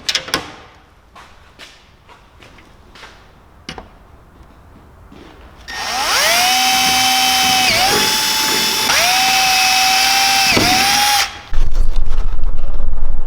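Power drill fitted with a 7.5 drill bit boring a hole in the rear of a BMW E36 while a diffuser is being installed. A few clicks and taps come first, then a loud, sustained whine that dips and rises in several bursts before stopping abruptly.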